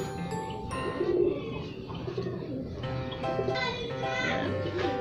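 An armored-breed racing pigeon coos in a loft, soft throaty cooing over a steady background of other bird chirps and faint children's voices at a distance.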